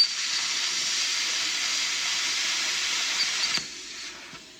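An Arccaptain plasma cutter slices through metal with a steady, loud hiss that runs for a few seconds, then cuts off abruptly, leaving only a faint residual tone.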